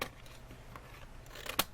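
Scissors cutting paper shapes for a craft card give faint, soft snips across a short stretch, with one sharper snip near the end.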